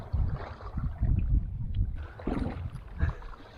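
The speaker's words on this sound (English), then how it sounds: "Paddling with style over there." A kayak paddle dips and strokes through the water of a reservoir, irregular splashes and swishes up close, with light wind and no talking.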